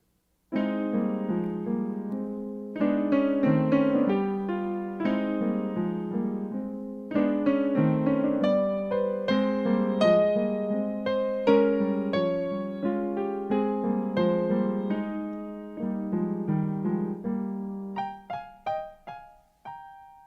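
A melodic instrumental phrase played alone, a woodwind-like line of distinct notes over soft accompaniment, fairly loud and steady, tapering off at the end: the duck theme from Prokofiev's Peter and the Wolf.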